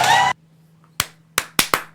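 A few sharp claps, sparse and uneven, come after a brief burst of noise and then a near-silent pause, with a faint steady hum underneath.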